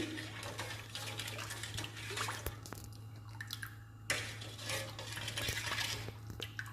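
A spoon stirs sugar into lemon sherbet, clinking and swirling in the liquid in a continuous near rhythm over a low steady background hum.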